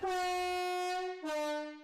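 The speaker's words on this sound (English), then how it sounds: "He sounds the train horn and proceeds." A train horn blasts twice on a railway, a long loud sustained tone followed by a slightly lower second blast, close and clear.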